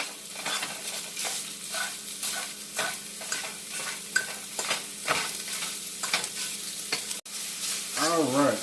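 Browned ground Italian sausage sizzles in a pan while a utensil stirs and scrapes through it in repeated strokes, close up under a constant frying hiss, with no one talking.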